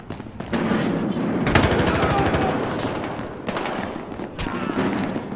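Rapid automatic gunfire from a Battlefield Hardline match, dense bursts of shots rattling almost continuously at close range with a few sharp heavier cracks, loud throughout.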